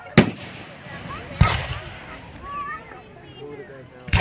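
Fireworks shot into the air at an outdoor display in Stockton, sharp bangs at the start, middle and end with whistling and crackling between, while a crowd and children talk in the background.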